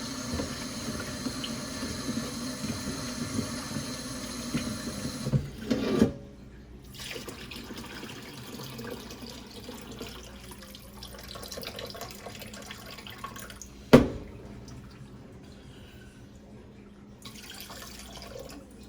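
Tap water runs steadily into a kitchen sink while whole chicken is rinsed, a continuous close splashing that cuts off abruptly, followed by quiet drips and a single sharp knock.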